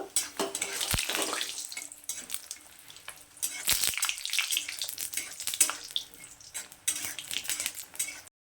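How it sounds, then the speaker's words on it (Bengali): Lentil dumplings (bori) frying in hot mustard oil, a broad close crackling hiss with clattering utensil knocks and sharp scrapes against the pan throughout. "বড়িগুলোকে প্রথমে আমি ভেজে নেব"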